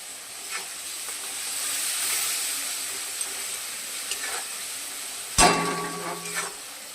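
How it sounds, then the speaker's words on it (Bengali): Gobindobhog rice cooks in a pan with a splash of water, a soft steady sizzle and hiss with light scraping stirs, then one sudden louder clatter and stir near the end. "হালকা একটু জল দিলাম। একটু নাড়াচাড়া করবো এটা।"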